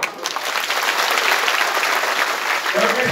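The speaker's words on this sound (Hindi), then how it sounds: "एक बार पूरे ताली मारो" Political rally crowd applauding at a farmers' gathering in Surkhi, a dense steady wash of clapping filling the whole stretch, loud and continuous with a brief voice near the end.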